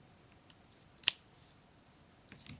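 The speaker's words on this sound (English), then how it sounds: "The next thing I'm going to do is just cut off" A single crisp snip of scissors trimming off excess fabric at a sewn seam, with a couple of fainter clicks and a soft rustle of cloth in an otherwise quiet room.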